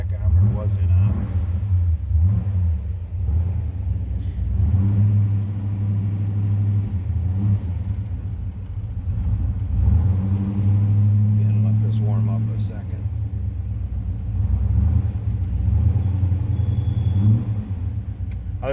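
Low, steady idle of a 1964 Oldsmobile Cutlass convertible's engine, a continuous close rumble with slight swells, while someone talks over it throughout.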